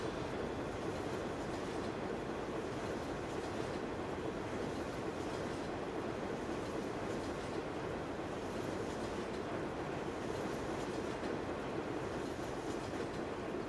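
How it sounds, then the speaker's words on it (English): A train rolls past in the video game Farming Simulator 17, a steady, dense rumble of wheels and rail noise that holds at an even level for the whole stretch, with no talking. "Oh, there it is. There's the train."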